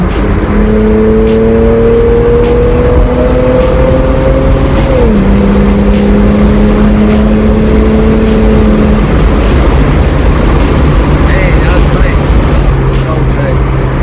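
Non-turbo, detuned 2JZ straight-six in a Lexus IS300 revs up after a downshift, a loud steady engine drone that steps in pitch around the shift and holds, heard from inside the car with wind and road noise.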